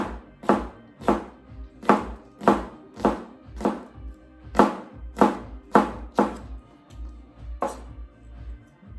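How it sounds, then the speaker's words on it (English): A knife chops through jalapeno peppers on a cutting board in about thirteen evenly spaced, crisp thunks over nine seconds, each one close and loud, with no voices. "you just chop right through them, because I like a chunkier jalapeno"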